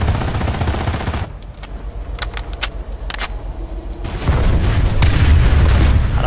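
In a squad-based shooter video game, a heavy explosion booms loudly, followed by a few sharp cracks and then a dense, sustained rumble of blasts and gunfire near the end.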